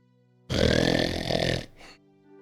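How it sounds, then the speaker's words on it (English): One long, loud, rasping snore-like snort rumbles for about a second, then trails off into a short fainter breath. "loud snore comes from one of the hills."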